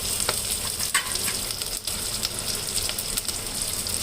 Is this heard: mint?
yes